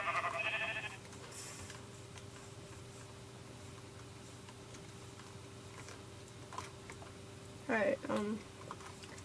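Sheep in the Minecraft video game bleat twice in a short wavering burst near the end, over a steady electronic hum and faint ticking, after a brief louder noise at the start.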